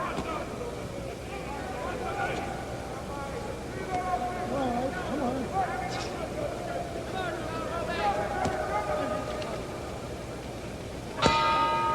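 Ringing boxing round bell at Madison Square Garden during a 1964 middleweight fight, a sharp bright strike near the end marking the close of round eight, heard over a steady arena crowd roar with a commentator talking.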